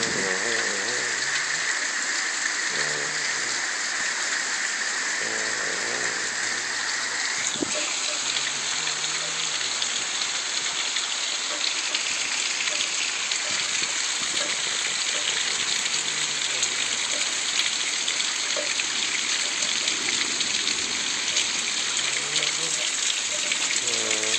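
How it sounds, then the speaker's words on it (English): Heavy rain pours steadily in a dense, loud hiss, with faint voices briefly murmuring beneath the downpour. "And it's raining like I don't know what."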